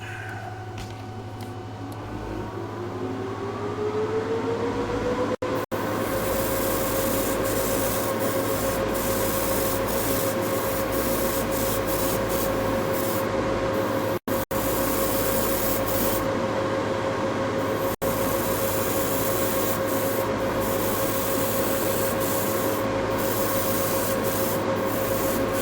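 Gaahleri GHAD-68 airbrush spraying paint, driven by a Serenair air compressor set to 23 psi, with a steady close hiss of air and spray running continuously over a constant compressor drone.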